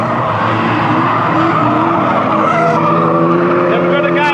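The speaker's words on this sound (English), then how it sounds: "Robbie Cole has a spin, and the 42 comes up as well." Race cars at a trailer race on an oval raceway, with a car spinning out amid roaring engines and screeching tires, loud and continuous, while a commentator speaks over the track noise.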